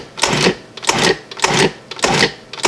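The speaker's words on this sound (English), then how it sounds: "I'm just going to add the buttermilk and pulse it only for a few times." Short bursts of a food processor pulsing biscuit dough with buttermilk, loud and close, about five quick pulses in an even rhythm with brief gaps between.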